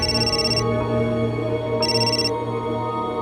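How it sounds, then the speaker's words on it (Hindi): An incoming call makes a telephone ring in two electronic bursts, the first at the start and the second about a second later, fairly loud over a quiet indoor background. "ले, तुम्हारे छोटे भाई का फोन है।"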